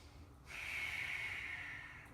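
A single slow, audible breath drawn through the nose during a postnatal yin yoga pose, quiet and close, with a soft hiss that swells and fades over about a second and a half.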